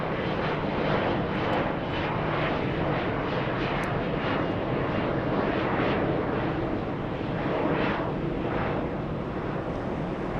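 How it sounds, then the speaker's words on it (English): An airliner jet at LAX airport roars loudly and continuously at close range, with a broad, steady engine rush that swells slightly in places, and no talk. "That's a 13-hour flight from Istanbul."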